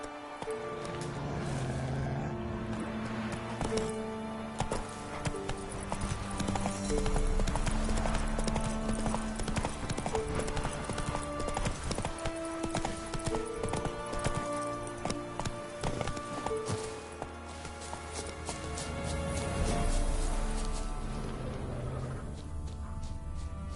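A horse gallops in The Witcher 3, its hoofbeats pounding continuously for the full stretch under a loud musical score.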